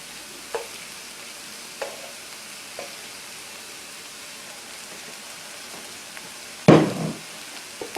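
Chicken stir-fried in a pan with cabbage, carrots, mushrooms and rice pasta gives a soft, low sizzle, broken by a few light spatula taps and one louder scraping clatter near the end.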